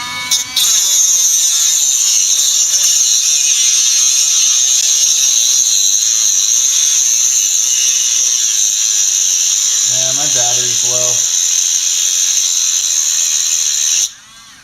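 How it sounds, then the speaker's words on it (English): A Dremel rotary tool cuts during a front CV axle change on a Subaru Forester. It gives a loud, steady high-pitched whine that holds for about fourteen seconds, then stops abruptly. "It's time to cut. There's a Dremel."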